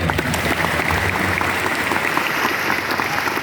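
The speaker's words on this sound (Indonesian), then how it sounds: "Tepuk tangan sekali lagi bagi" A large audience at an Islamic sermon gathering claps steadily and densely, the applause filling the whole stretch at a constant level with a faint voice underneath.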